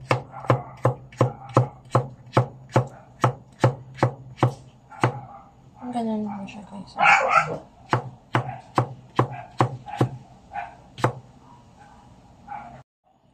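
A knife chops bottle gourd into small pieces on a cutting board in quick, even strokes, pausing briefly while a dog barks and a person speaks, then resuming.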